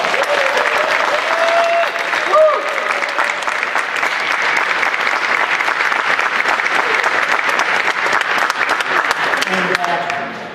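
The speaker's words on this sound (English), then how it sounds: "Let's give him a round of applause." Loud, sustained audience applause at Las Vegas Comic Con 2014 greets comics creator Jim Valentino, a dense wash of clapping filling the hall for about ten seconds.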